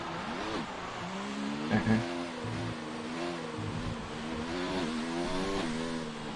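Race cars lapping the Abu Dhabi Grand Prix circuit in a racing video game, engines revving and shifting through gears with rising and falling whine, one car close and loud, no talk.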